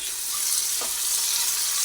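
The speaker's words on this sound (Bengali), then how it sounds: "এইভাবে ভেজে নিচ্ছি আলু" Sliced potatoes frying in hot oil in a pan, a steady close sizzle that holds at an even level throughout with a brief stir partway through, no voices.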